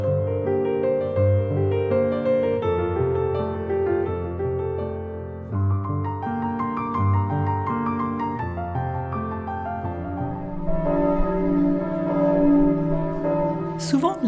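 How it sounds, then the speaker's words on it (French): Several church bells ringing together for Mass in overlapping, resonant peals, continuous and fairly loud, with changing patterns of strikes. "Souvent, les cloches résonnent"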